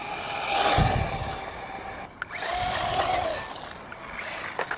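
Drivetrain of a budget RC monster truck with its gears meshed tight, giving a whining, grinding mechanical noise that rises and falls in pitch as the truck runs, with no talking.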